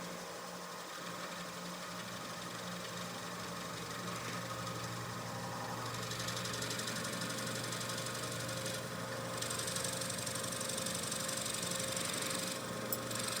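A dull drill bit bores into a pen blank on a lathe, giving a steady motor whir with a faint grinding hum underneath that rises slightly and wavers as the bit advances, no talk.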